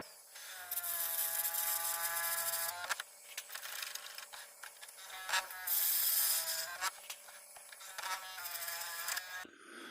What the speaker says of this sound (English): I drilled right through 2 pieces of rope